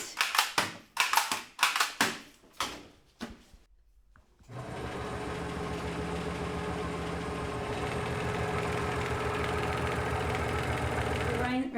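A bottle filling machine on a small dairy farm runs with a steady mechanical chatter after a series of sharp rhythmic clacks and a brief pause.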